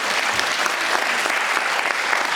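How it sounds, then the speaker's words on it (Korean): Audience applause at a Korean public health lecture, introducing a hospital gynecology professor; steady, dense clapping from a seated crowd fills the whole span at moderate loudness with no voices over it. "큰 박수 부탁드립니다."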